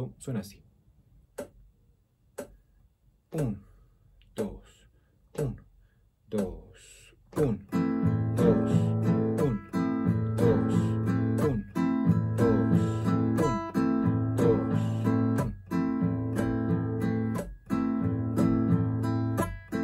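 A metronome clicks steadily at 60 beats per minute, one sharp tick each second, first alone with brief speech and then under sustained guitar chords for a Colombian bambuco.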